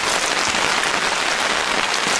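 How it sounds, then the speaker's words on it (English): Steady, dense rain falling in Linville Gorge during a backpacking camp, a continuous hiss of drops pattering on a surface, close and fairly loud with no voices. "the rain's just about to stop"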